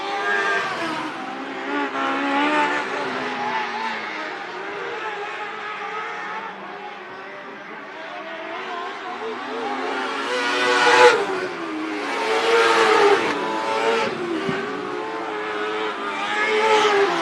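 Race cars in a heat race at Marion County Speedway: several engines roaring and droning around the track, swelling and fading as cars pass, with loud revving surges.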